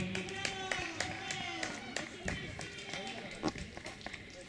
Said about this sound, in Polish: Gorące brawa tutaj dla dwóch zawodników.